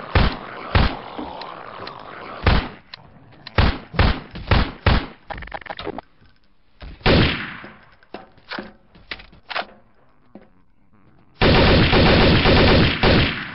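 Gunfire in the video game MH2 comes as sharp, loud shots in irregular bursts, some single and some clustered, with quieter gaps, a longer swelling blast midway and a dense sustained rattle at the end.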